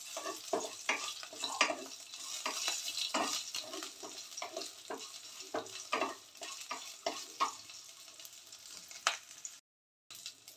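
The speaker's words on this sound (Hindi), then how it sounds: "लहसुन को थोड़ा सा फ्राई कर लेंगे।" Crushed garlic with the skin on sizzles in hot oil in a pan, with soft stirring scrapes and small clinks in an irregular rhythm, close and fairly quiet, with no talking.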